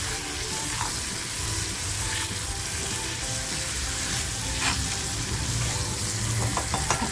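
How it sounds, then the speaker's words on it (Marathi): Tomato frying in a pan with dried surmai fish in home cooking: a steady, loud, dense sizzle that hisses without a break, with occasional soft stirring scrapes. "हलक्या हाताने थोडीशी फ्राय करून घेणार आहे आता जो मी टॅमॅटो घेतला होता ना तो टॅमॅटो टाकते आहे"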